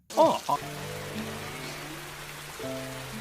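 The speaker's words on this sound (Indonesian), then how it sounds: "di saat hujan deras" Heavy rain falling at night, a steady close hiss running under sustained tonal music notes that start after a brief louder burst at the beginning.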